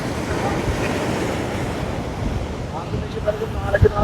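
Sea waves and strong wind batter a cyclone-hit coast in Jaffna where coconut palms stand with roots exposed, a continuous roaring wash of surf and gusts, with brief louder bursts near the end.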